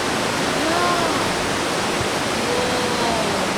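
Fukiware Falls in Gunma, Japan roars as a dense, constant wash of rushing water, loud and close with no pauses.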